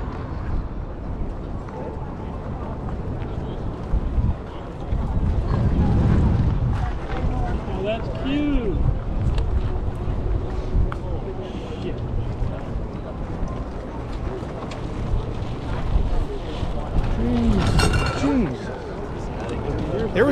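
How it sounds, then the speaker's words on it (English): Strong gusting wind buffets the microphone at an outdoor flea market on opening day, a steady low roar with louder bursts, while people talk faintly in the background. "The wind was blowing stuff all over the place at this show."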